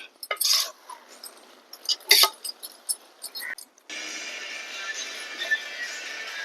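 Toor dal being stirred in a pan with a metal spoon, a few sharp scraping clinks spaced out over a few seconds, followed by a steady soft sizzle.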